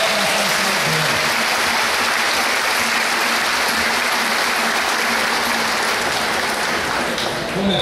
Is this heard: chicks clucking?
no